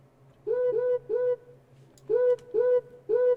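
A high-pitched percussive sample from the house drum kit of a Roland XV5080 sound module is triggered six times in two groups of three, each a short bright tonal hit over a low steady hum.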